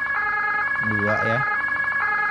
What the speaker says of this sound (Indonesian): Ini adalah siren yang digunakan pemadam kebakaran dari Amerika Serikat ya